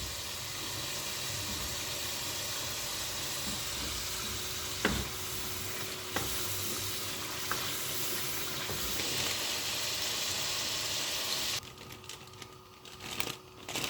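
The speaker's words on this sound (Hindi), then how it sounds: "अब हम थोड़ा सा शुगर को पका लेंगे।" Sugar cooking in a pan for sweet milk vermicelli sizzles with a continuous hiss, broken by a few sharp clinks of a spoon stirring, before the sizzle drops away near the end.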